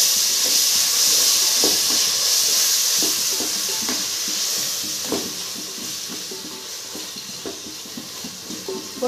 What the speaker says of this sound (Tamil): பொரிக்காத விராலை இந்த வெங்காயத்தில் போட்டுறணும்.